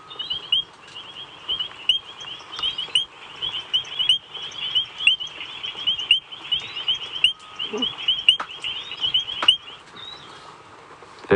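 Frog calls played back from a recording during a sunrise safari drive: a steady, dense chorus of rapid chirping croaks running throughout at moderate volume, with a few faint clicks.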